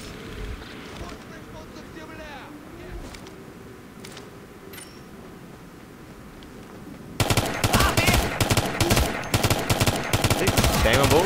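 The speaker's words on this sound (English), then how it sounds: "Spamming bullets, not wasting that much." Machine gun fire in the video game Ghost Recon Future Soldier erupts suddenly after a stretch of quieter game sound and talk, a loud, dense, rapid burst of automatic shots continuing to the end.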